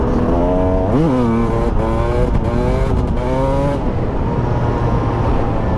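A Husqvarna TE300 two-stroke dirt bike screams loudly and close as the engine revs hard in fourth gear during a wheelie, its pitch rising and wavering before dropping back to a raw buzzing drone.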